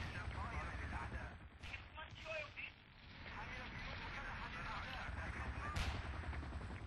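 Gunfire in the video game Battlefield 2 during an Mi-28 helicopter round on the Gulf of Oman map, with rapid bursts and booms mixed under excited players talking.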